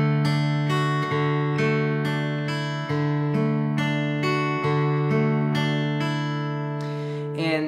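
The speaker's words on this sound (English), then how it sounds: "I'm going to basically pluck the strings with the fingernails only" Fingerstyle guitar strings plucked with the fingernails only give a bright, metallic tone. A slow sequence of clear single notes and dyads rings close and sustained, with no talk.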